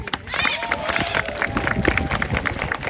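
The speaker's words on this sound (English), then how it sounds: "Usually a big round of applause will do it for her." An audience at a live bird show with an umbrella cockatoo applauds and cheers in a continuous crowd roar. Scattered claps and shouts blend with voices in the background.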